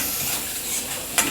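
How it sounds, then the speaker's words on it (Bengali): Chopped onion frying in oil with cumin and mustard seeds for lentil dal, a brief close sizzle with a soft stirring scrape and one sharp clink near the end. "জিরে দিয়েছি, সর্ষে দিয়েছি, দিয়ে পেঁয়াজটাকে ভাজছি"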